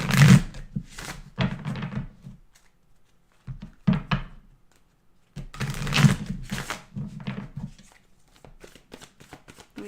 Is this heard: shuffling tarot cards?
yes